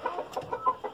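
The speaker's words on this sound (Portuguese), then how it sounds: "Pode ver que é um galo velho, né?" An old rooster clucking in a short run of quick, close, throaty clucks in an uneven rhythm, with no voices over them.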